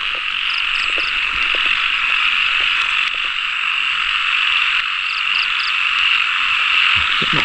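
Frogs croak in a dense, steady chorus on a rainy night near dawn. The overlapping calls carry on without a break and stay loud and close throughout, with no voices.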